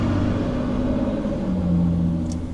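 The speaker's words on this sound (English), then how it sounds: "More loud trucks, cool." Loud trucks roll past on a nearby road, a steady, close engine rumble that swells and holds for a couple of seconds with no talking.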